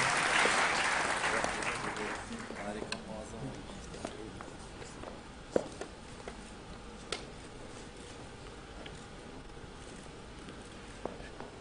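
An audience at a documentary premiere applauds, starting with a loud burst of clapping that fades over several seconds into scattered, lighter claps in a large hall.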